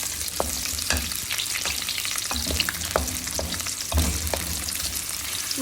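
Chopped garlic, garlic and ginger paste and vegetables sauté in a pan for a spicy vegetable spaghetti, crackling in a loud continuous sizzle broken by repeated scraping stirs and spatula knocks, with no voices.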